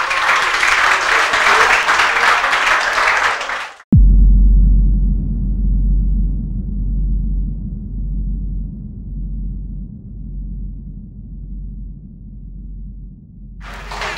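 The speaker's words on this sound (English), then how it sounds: "Make some noise for your man." A rap battle crowd cheers and applauds in a loud, dense wash of clapping and shouting for a few seconds, then it cuts off abruptly, leaving only a low rumble.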